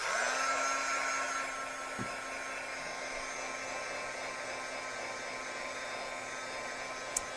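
A hair dryer blows steady and close on wet paint on a gel printing plate, a continuous whooshing roar with a low motor hum, easing slightly after the first second and running on evenly with no voice.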